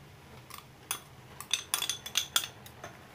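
A spoon scraping and clinking against a pan as grated coconut is mixed into boiled milk with sugar over a gas flame, with a dozen quick metallic taps in irregular bursts, fairly close and quiet.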